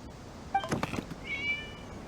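A cat meows in the video game Genshin Impact, a short high call followed by a second drawn-out mew, fairly faint and heard alone.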